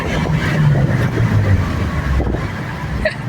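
A Mitsubishi Lancer Evolution with upgraded brakes, EBC brake pads and stainless steel brake lines drives along, a close, steady engine and road rumble from inside the car with a brief higher whine near the end.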